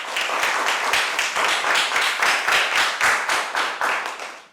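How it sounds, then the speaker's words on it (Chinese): Students clap together to welcome a new teacher in a school classroom, a dense, even round of applause that holds steady for several seconds and then tails off, with no talk. "大家掌声欢迎方圆老师"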